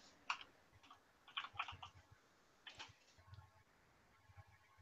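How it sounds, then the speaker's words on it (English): Faint, irregular clicks of keys being typed in short bursts, quiet and a little distant, with soft low rumbling underneath. "I hear you're typing."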